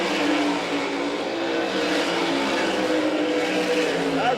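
Race cars on a dirt oval in Wakeeney, Kansas, come out of turns three and four and roar past loud and continuous. Their engines drone and whine throughout, with no break and no speech.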